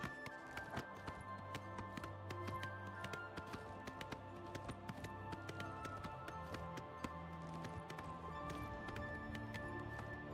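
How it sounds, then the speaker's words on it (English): Steady rhythmic hoof clip-clops of a galloping horse in the video game Oblivion Remastered, faint and even, continuing throughout with a constant background hum. "Horse stops sprinting when it's climbing a steep slope."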